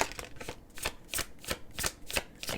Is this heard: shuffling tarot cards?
yes